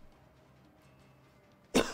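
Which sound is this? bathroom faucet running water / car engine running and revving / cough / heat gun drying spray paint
cough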